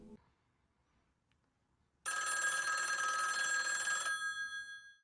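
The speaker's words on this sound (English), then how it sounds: "the conversation is cut short by the ringing of a phone call" A telephone rings loudly and abruptly after near silence in a film scene from No Country for Old Men. It sounds as a single sustained bell ring of about two seconds that then fades out.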